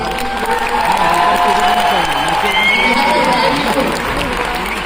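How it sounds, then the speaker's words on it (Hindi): A crowd at a lifestyle business programme in Nagpur applauds loudly and continuously, the sustained clapping mixed with cheering and voices throughout. "आपके डायमंड का नाम हो गया तो जबरदस्त वाली ताली चाहिए"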